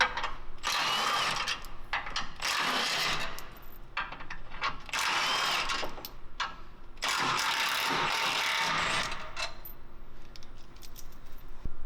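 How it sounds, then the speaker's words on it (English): A power tool removes four 12mm head bolts from the rear cross member of a Toyota Tacoma, sounding as loud, sustained whirring bursts that start and stop several times, with short pauses between runs and no talking. "We're going to start by removing the 4 12mm head bolts on the rear cross member, 2 here and 2 here."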